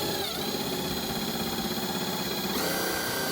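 Cordless screwdriver with an 8mm bit driving a self-tapping tech screw with a rubber grommet washer into a tin roof: a steady, loud, continuous motor whir with rattling, a slight shift in pitch near the end.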